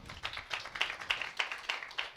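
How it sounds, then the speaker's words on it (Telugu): A church congregation claps together in a steady rhythm, bright, fairly close claps landing about every third of a second with a faint room murmur underneath. "ఈ దినము సంతోషంగా ఉన్నటువంటి వారందరూ కూడా గట్టిగా క్లాప్స్ కొట్టండి."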